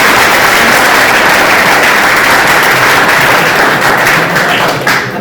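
A lecture audience gives a wiring expert sustained, loud applause, a dense, steady wash of clapping that tapers slightly at the very end.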